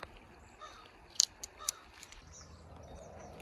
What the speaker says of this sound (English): there's a bunch of crows out there